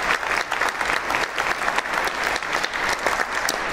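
Steady applause from a large congregation fills a church on Palm Sunday, dense and continuous, with a reverberant indoor feel.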